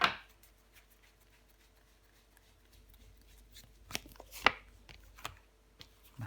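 Tarot cards handled and laid down during a reading, with faint soft rustles and a few sharp flicks and slaps of cards in an otherwise quiet room.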